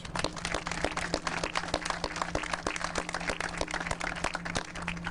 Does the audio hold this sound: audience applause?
yes